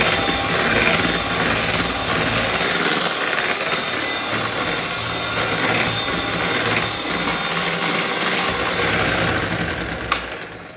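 Electric beater whipping ganache into chocolate mousse cream, a steady buzzing motor whir that runs loud and continuous throughout, with a brief clatter near the end.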